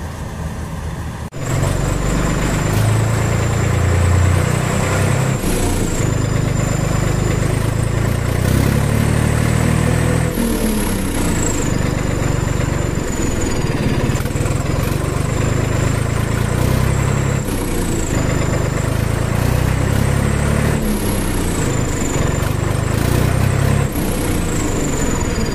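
A Swaraj tractor engine runs loud and close during the paddy harvest, a steady heavy rumble with a high whine, starting abruptly and continuing throughout without voices.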